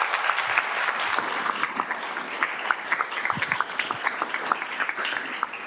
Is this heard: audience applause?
yes